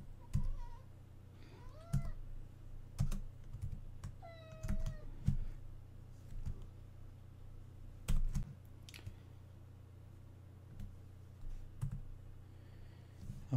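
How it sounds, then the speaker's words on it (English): Quiet, irregular taps of computer keys with occasional louder clicks, while a cat meows a few times nearby over a low steady hum. "So let's just keep typing here."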